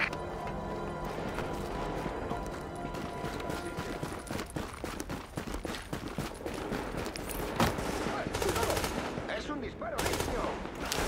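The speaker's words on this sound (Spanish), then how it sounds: "¡Es un disparo limpio!" Gunfire from The Division video game during a firefight at a warehouse, with dense bursts of rapid shots and sharp cracks over a steady background of combat noise throughout.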